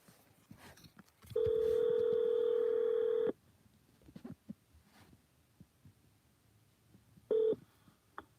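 A phone call rings out: a steady dial tone lasting about two seconds, a quiet pause with faint background noise, then a short second ring burst while waiting for someone to pick up.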